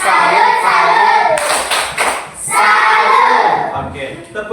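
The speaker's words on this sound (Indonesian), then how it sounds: "sekarang kita tepuk salut untuk kita semua dulu" Hand clapping from a classroom group doing a rhythmic salute cheer, loud and close, with bursts of claps separated by brief pauses and chanting voices mixed in.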